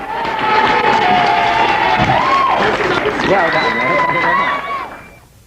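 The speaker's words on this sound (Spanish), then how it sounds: "Un aplauso para él." A classroom group applauds a student after a lecture on science, a short burst of clapping and cheering mixed with lively voices and whoops, close and loud, that fades out at the end.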